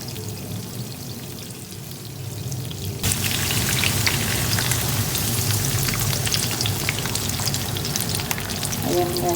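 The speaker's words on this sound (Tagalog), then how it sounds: "pakuluan lang natin yung ating gata" Coconut milk with prawns bubbles in a pan for ginataang kalabasa with string beans. A dense, loud, steady crackling sizzle starts suddenly a few seconds in and keeps going, close up.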